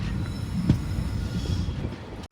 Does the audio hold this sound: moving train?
yes